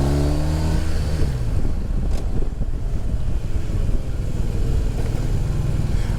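A BMW R1250RT motorcycle engine drones low and steady during a ride, mostly buried under constant loud wind rush across the microphone, with no talking.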